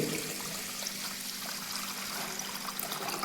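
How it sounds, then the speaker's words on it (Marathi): Water pours steadily into a cooking pot for rice kheer, a soft, continuous trickling splash heard close up with no talk. "आता हे पाणी का टाकलं तर फक्त पाणी शिजायसाठी"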